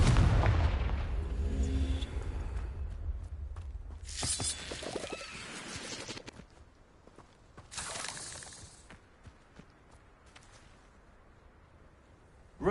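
Confringo explosive spell from Hogwarts Legacy, a few loud blasts with bright bursting crackles spaced across the clip over a rumbling low background, with no voices.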